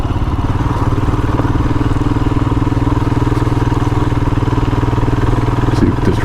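Royal Enfield Himalayan motorcycle cruising on a freeway, its single-cylinder engine giving a steady, loud, close thrum with constant mechanical clatter and no pauses throughout.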